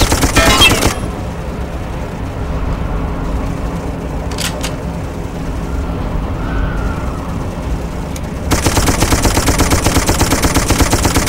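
Rapid machine-gun fire in the war game Darkest of Days, loud and close, rattles in dense bursts at the start and again at the end, with a quieter stretch of background noise and a few isolated cracks between.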